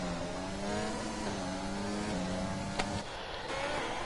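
An F1 race car on a fast lap in a video game at the Chinese circuit screams along with a steady high engine whine. A sharp click breaks in near the end, and the engine note drops briefly.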